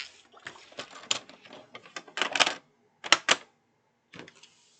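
Paper is trimmed to 8 3/4 inches for a card envelope. A series of crisp clicks and slicing strokes from a paper trimmer come in short bursts, close and fairly loud, with brief pauses between them.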